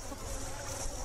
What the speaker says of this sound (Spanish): De fondo se escuchan las abejas